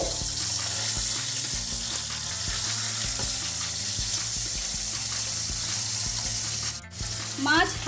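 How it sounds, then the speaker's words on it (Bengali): Pomfret fish frying in hot oil for a Bengali pomfret curry, giving a steady close sizzle with faint stirring and clinks, then a brief water-tap rush near the end. "মাছ ভাজা হচ্ছে।"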